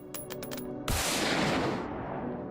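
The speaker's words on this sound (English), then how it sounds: "I'll use the actual proper sniper rifle." A single loud, sharp sniper rifle shot in the video game Beyond Citadel follows a few faint rhythmic tonal pulses. The blast decays in a long, bright, echoing tail.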